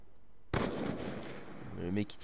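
A loud burst of gunfire shooting through windows in Call of Duty Black Ops 2, starting abruptly and holding as a dense blast of noise, with someone talking over the end.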